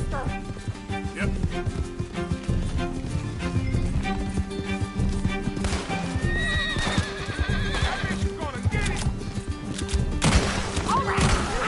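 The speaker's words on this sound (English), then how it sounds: "Can't this horse go any faster?" A horse gallops and neighs in the Red Dead Redemption 2 video game, with rapid rhythmic hoofbeats, loud whinnies, and thuds over game music, while voices talk throughout.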